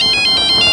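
A phone ringtone in a tense crime drama scene, a loud electronic warble repeating in rapid even pulses, close and alone.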